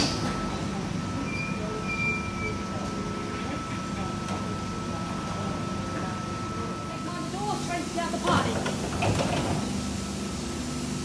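A train at a platform of Springwood station gives a low, steady rumble with some rattling and clicks near the end, while a public-address announcement is spoken over it.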